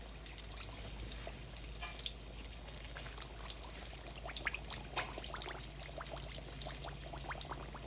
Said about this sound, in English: It's time to begin the frying process. You're gonna drop 2 to 3 at a time, and you wanna keep your heat medium to low.